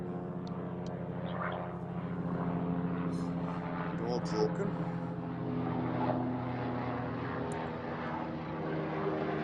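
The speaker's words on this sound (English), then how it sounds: "Helicopter flying overhead probably causing a lot of noise." A low droning helicopter engine hums steadily overhead throughout, over ruined abandoned buildings, with a person speaking briefly over it and a few faint chirps.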